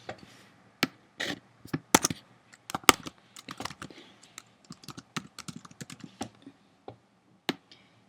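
Someone types on a computer keyboard while building a website, with irregular bursts of light, crisp key clicks, sometimes quick runs and sometimes single taps, close and quiet with short pauses between.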